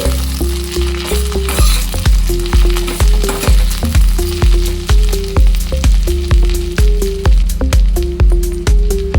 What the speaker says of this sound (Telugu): మొత్తం అంతా ఒకసారి కలుపుకోవాలి